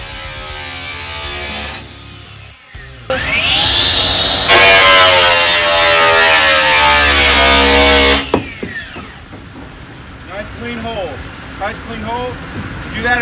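A battery-operated rescue saw starts with short revs, then cuts steadily with a loud high-pitched whine for several seconds before winding down, followed by quieter clanks and handling noises.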